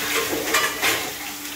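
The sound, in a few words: water sprinkled onto papaya frying in a pan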